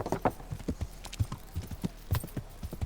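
Horse hooves clip-clop in a quick, steady rhythm while the horse is ridden in the video game Kingdom Come: Deliverance, close and distinct.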